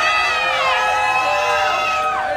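A crowd cheers and shouts at a diaper changing contest for pregnant women, loud, high-pitched whoops and shrieks from many voices blending in a sustained burst.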